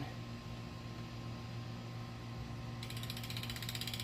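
A DT Swiss ER1600 bicycle wheel's freehub ratchet, heard as a fast, even stream of clicks that starts partway through over a steady mechanical hum.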